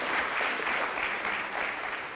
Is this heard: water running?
no